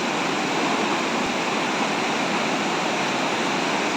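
Rain-fed water rushes steadily near Sirsi during a light drizzle, a dense, even roar of flowing water close by with no voices over it.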